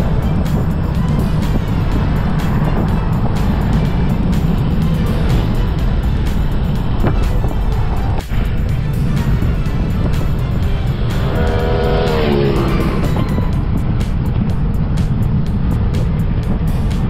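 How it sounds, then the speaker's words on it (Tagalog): Road traffic between Angeles City and Tarlac heard from a bicycle, a loud continuous roar of cars passing with steady wind rumble throughout and a brief higher whine near the end. "Malawagan yung traffic dito."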